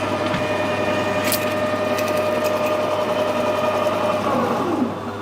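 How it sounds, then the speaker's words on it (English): A metal lathe set up to cut a 12 TPI internal acme thread runs with a steady, loud motor hum while the tool is touched off against the work. "I've got the lathe set up to cut 12 TPI, and I know that this tool is on centre height. I'm just going to touch the tool off."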